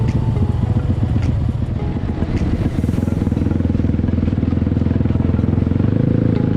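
A heavy motorcycle rides along a trail beside a ditch, its engine loud and close with a steady throbbing rumble and small revving surges, while gravel and parts clatter throughout.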